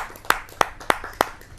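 Four crisp, evenly spaced hand claps ring out close and alone at a kavi sammelan poetry gathering, a brief rhythmic burst of welcome for a poet.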